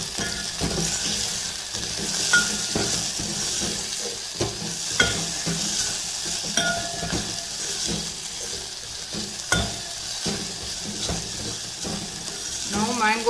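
Raw mangoes with salt stirred and frying in a pan, a steady sizzle under scattered scraping knocks of a spoon against the pan, moderately close and continuous.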